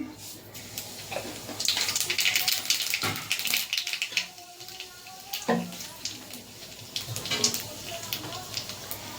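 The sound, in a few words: dry red chilli and nigella seeds sizzling in hot oil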